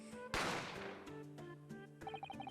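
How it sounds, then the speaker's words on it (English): A single sharp gunshot effect from The Great Ace Attorney Chronicles video game bursts out loudly, trailing off in a long decay over the game's background music, with chiming tones following. "A gunshot rang out"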